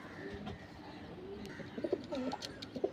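Punjabi pigeons in a Kolkata loft give soft, low cooing calls, quiet at first and then in several close, rolling coos toward the end over faint room noise.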